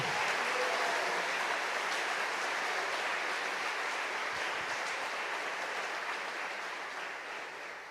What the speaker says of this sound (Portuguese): Dá um forte aplauso, forte aplauso.